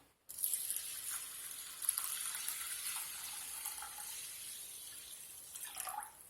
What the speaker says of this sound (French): Je vais ajouter 700 ml d'eau.